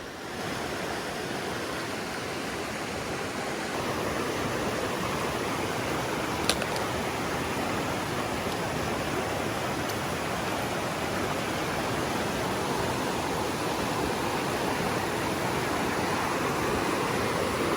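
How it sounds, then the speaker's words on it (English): A flowing creek and waterfall in the Angeles Forest rush with a steady, dense roar of water that holds constant and fairly close for the whole stretch, with no voices. "the creek is so deep in some areas"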